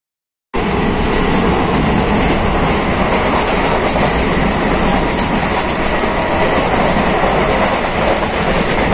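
Hool Express passenger train running from Siuri toward Howrah, heard from inside a coach: loud, continuous rumble and clickety-clack of wheels on track starting abruptly after a brief silence and holding steady.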